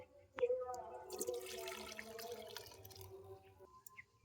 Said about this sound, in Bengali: জলটাকে এবার আমি নামিয়ে একটা বড় জায়গাতে ঢেলে নেবো